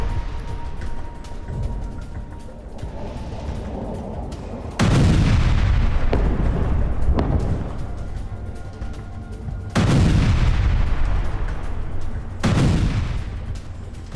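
Artillery shelling and explosions in South Lebanon, with a constant rumbling roar broken by several heavy booms that swell and roll away, each impact loud and reverberant over the ongoing din.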